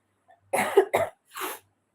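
A person who is ill with a heavy cough and fever coughs three times in quick succession, close and loud, the first two harsh bursts nearly joined and a shorter third after a brief pause, with no speech.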